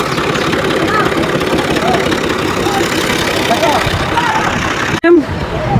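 A tractor engine runs steadily close by, a loud continuous idling rumble with a brief dip near the end.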